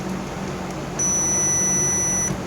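A multimeter gives a steady high electronic beep during a resistor check on a Taramps Smart 3 amplifier repair bench, holding for more than a second over a faint background hum.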